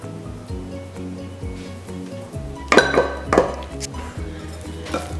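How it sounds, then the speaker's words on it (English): A cocoa powder and milk mixture is worked into a thick chocolate batter in a bowl for marble cake, giving a few utensil clinks and scrapes against the bowl near the middle over steady background music. "Combine these well until you get a thick chocolate batter without any lumps."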